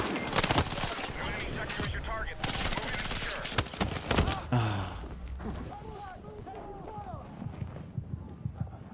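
QBZ assault rifle fire crackles in Battlefield 6, with several rapid automatic bursts early on and sparser shots later, mixed with game effects and a player talking over the action.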